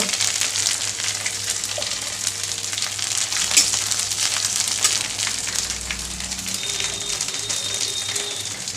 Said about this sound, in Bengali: আর একটু পোস্ত দিলাম এটা ভালো করে ভেজে নেব